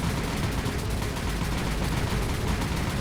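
Aircraft strafing a light cruiser in a naval war game, with a dense, continuous roar of rapid gunfire and distant explosions at steady loudness, and no voices.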